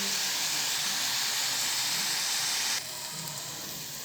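Onions sauté with salt in a pan for a chickpea sundal, making a loud, even hiss that drops abruptly to a quieter sizzle partway through, with no speech.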